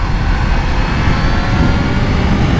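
A 2020 Kawasaki Z H2 motorcycle engine roars steadily while being ridden, a loud continuous drone blended with rushing wind noise, with no talking.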